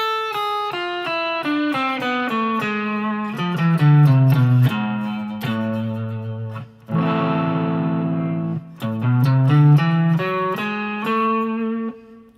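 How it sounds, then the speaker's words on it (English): Distorted electric guitar plays a run of single notes up and down a harmonic minor scale, with a sustained chord in the middle, loud and steady. "we get the harmonic minor scale. And it sounds like this."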